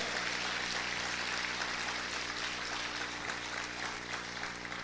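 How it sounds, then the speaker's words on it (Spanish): A church congregation claps for the Lord during a service, a dense and steady wash of applause that holds for several seconds at moderate level, with a faint low hum from the room's sound system underneath. "¿Cuántos pueden aplaudir fuerte al Señor?"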